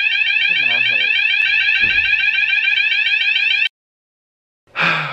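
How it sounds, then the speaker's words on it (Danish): A building fire alarm sounds loud and steady, a pulsing electronic tone that cuts off abruptly near the end. A person's voice is heard briefly beneath it. "I kunne høre, at alarmen den gik amok, så alle i hele bygningen blev sendt ud. Fordi at der blev sat en brandalarm til."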